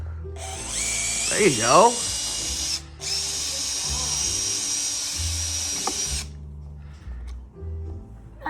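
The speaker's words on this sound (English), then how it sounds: "is unscrewing some hinges" A power drill unscrews hinges from a house door in two long whirring bursts, with a short pause between them and a brief pitch sweep near the start. A voice speaks briefly nearby.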